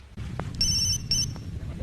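Mobile phone ringtone sounding in a quiet room, two short bright electronic bursts, fairly close, with no talk.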